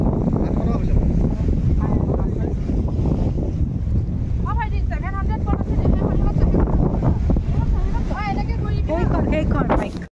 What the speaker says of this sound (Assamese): আমি এতিয়া ব'টিং কৰোঁ